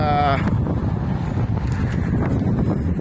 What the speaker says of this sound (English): it's breezy out today